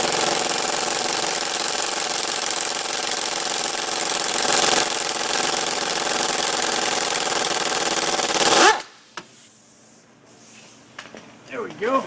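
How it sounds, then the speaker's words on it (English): Impact wrench removing the crankshaft pulley on a Chrysler PT Cruiser, heard as a loud, continuous rattling hammer close by for about nine seconds before cutting off, followed by quieter handling noises. "Go ahead and get my impact on it."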